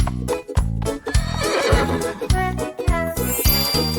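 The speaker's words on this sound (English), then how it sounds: "Horse." A horse whinnies close and loud, with a shrill neigh over a bouncing rhythmic beat and faint clip-clop-like thuds throughout.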